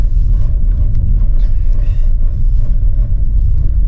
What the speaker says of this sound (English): There's a few big bumps in the road here. A few rocks.